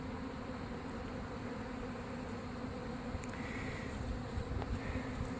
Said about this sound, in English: this is an interesting experiment to see if I can manipulate this swarm